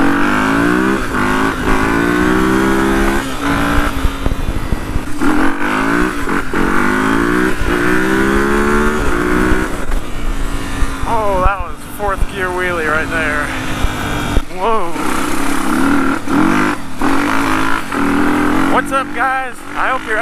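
A 250cc motorcycle revs hard while the rider tries a wheelie, its engine pitch climbing and falling in repeated loud bursts. A voice talks over it throughout.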